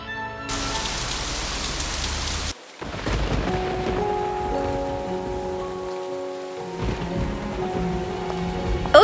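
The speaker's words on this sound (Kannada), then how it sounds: "ಹೊರಗಡೆ ಮಳೆ ಬರ್ತಾ ಇದೆ" Steady rain falls outside with a dense, continuous hiss of drops, with a brief break near the start before the downpour resumes, loud and close.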